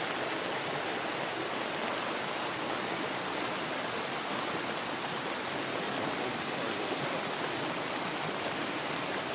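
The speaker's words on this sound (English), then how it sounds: "For a long way down, you see nothing but water flowing from our driveway." Water running off a farm driveway after rain, heard as a steady, loud broadband rush of flowing water that stays constant throughout with no voices.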